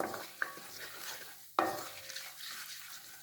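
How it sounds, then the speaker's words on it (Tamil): Kashmiri chilli and other masala ingredients for green peas masala are sautéed in a pan, a soft low sizzle with two sharp metal clinks of a stirring spoon against the pan, with no voices. "இது எல்லாத்தையும் நல்லா வதக்கணும்"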